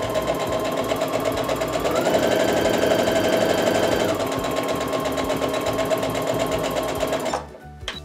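A sewing machine stitches quilt block triangles in one continuous loud, fast mechanical run with a rhythmic needle pulse, rising slightly in pitch partway through, then stopping abruptly near the end.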